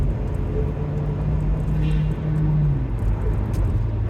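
Inside the cabin of a 2009 Acura RDX on the move, the aftermarket exhaust drones as a steady low hum, with a faint tonal note rising and falling under constant road rumble.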